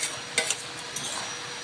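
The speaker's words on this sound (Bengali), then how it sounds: "ভাজা আলুটা দিয়ে আর একটু একটু ভালোভাবে একটু কষিয়ে নিলাম।" Fried potatoes are stirred into cooked jute spinach in a pan, giving a soft, continuous scraping and faint sizzle with a couple of light utensil knocks, quiet and close.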